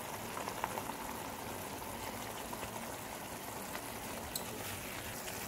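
Shakshuka sauce simmering in a pan after brown sugar, salt, cumin, coriander powder and red chili flakes are added, a soft continuous bubbling and fine crackle, quiet and steady throughout.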